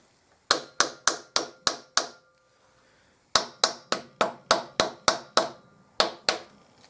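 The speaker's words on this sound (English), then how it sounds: "and now I'm going to tap the other side." Sharp taps on the side of a Bach Stradivarius trumpet valve casing during a repair, about fifteen crisp strikes in quick even runs of five or six, a short gap between runs, close and clear with no talking.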